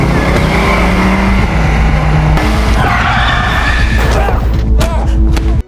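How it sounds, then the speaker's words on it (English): A car speeds toward a wall and the driver slams the brakes: a loud, continuous roar of engine and tyres with skidding and thuds, then an abrupt cut to near silence. "Instead of obeying, she speeds toward a wall, slamming the brakes just before crashing."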